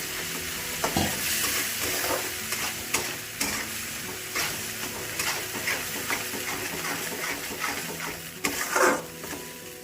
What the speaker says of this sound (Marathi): वाटण टाकायचं, थोडं हलवायचं